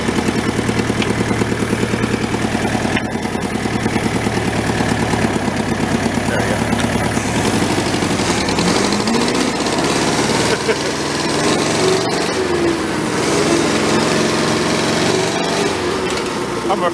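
An old tractor engine chugs steadily in second gear, a loud continuous rumble with a rapid, rough beat that shifts slightly in pitch as it runs, close by throughout.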